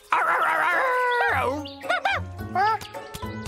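A cartoon character imitates a dog with voiced barks and a long howl, a drawn-out wavering cry followed by several short, sharp yips close up.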